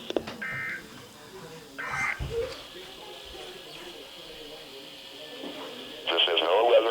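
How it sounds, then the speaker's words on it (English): NOAA Weather Radio broadcast of an Emergency Alert System segment from station WXJ57 in South Bend, with a synthetic voice announcing over the air and a loud steady alert tone starting near the end. "Emergency alert system."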